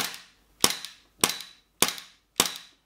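WE SIG Sauer P320 M17 gas blowback airsoft pistol firing four sharp, punchy shots at an even pace with a short metallic clang trailing each one, close and loud with no talking.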